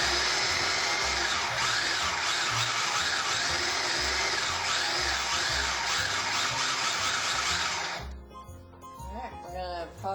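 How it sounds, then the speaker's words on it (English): A food processor whirs loudly while chopping ingredients for a spaghetti and meatballs recipe, a continuous motor drone with churning texture that runs for about eight seconds before cutting off abruptly. "Add to the food processor."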